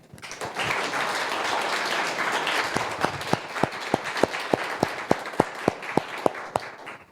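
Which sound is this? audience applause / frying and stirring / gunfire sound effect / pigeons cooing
audience applause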